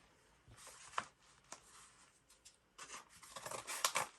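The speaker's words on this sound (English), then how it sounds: "Let me cut it open." Scissors cutting open a craft swap package decorated with washi tape, a series of faint, close snips and paper rustles building to quicker crinkling cuts, no talking.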